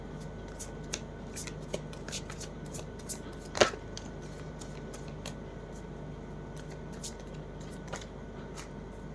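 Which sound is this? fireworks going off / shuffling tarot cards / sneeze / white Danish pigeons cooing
shuffling tarot cards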